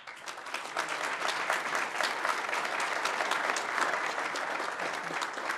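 A room at a Bernalillo County Commission administrative meeting breaks into dense, sustained applause, a steady even roar of many hands clapping from start to finish.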